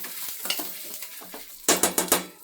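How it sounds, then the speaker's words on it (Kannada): Spices sizzle in hot oil while being stirred for Melukote puliyogare gojju, with soft scraping strokes followed by a louder run of sharp, rhythmic stirring scrapes close by. "ಇವಾಗ ಎಲ್ಲನೂ ಹುರ್ಕೋಬೇಕು, ಎಲ್ಲನೂ ಹುರ್ಕೊಳ್ಳೋಣ ಎಣ್ಣೆಯಲ್ಲಿ."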